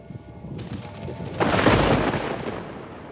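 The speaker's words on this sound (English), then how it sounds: "Gabriel, thou hast the storm forgot." A sudden rumble of thunder swells from a quiet, hissing background, rolling loudly for a couple of seconds before slowly fading.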